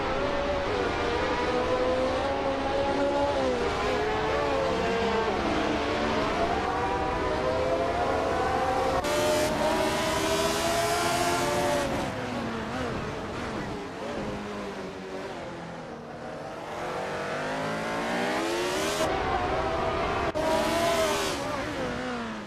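Hill GH1 race cars in a video game roar continuously, their engine tones rising and falling through gear shifts and passes, loud and sustained with no talk over them.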